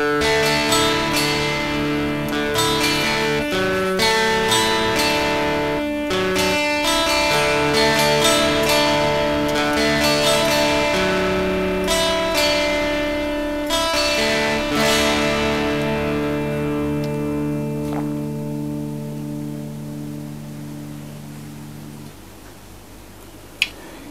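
Electric guitar played through a Boss DS-1 distortion pedal with the knob set at twelve o'clock, sustained distorted notes and chords ringing loud and steady, fading slowly toward the end with no talking.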